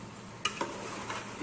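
Chicken frying in oil in a pot, a steady low sizzle with two brief scraping stirs near the middle, close and fairly quiet.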